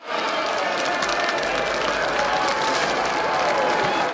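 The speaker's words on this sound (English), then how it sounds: "which causes the crowd to cheer in celebration" A large crowd in a castle kingdom in a dark Snow White film cheers in celebration after a royal birth is announced, a loud, dense, continuous roar of many voices and clapping.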